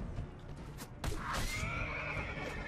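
A horse in Mount & Blade Warband whinnies loudly after a sharp impact, the long wavering neigh trailing off, with hoof clatter and combat noise underneath.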